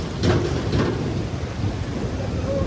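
Heavy monsoon downpour beside a swollen drain channel in the Gaula river area, a loud steady wash of rain and rushing water with a couple of deeper rumbling surges early on, no talking.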